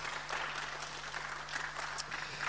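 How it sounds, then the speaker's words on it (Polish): Quiet, distant audience applause at a dental expo award ceremony, a steady wash of clapping with a low hum underneath. "Gorące brawa dla pana Arkadiusza."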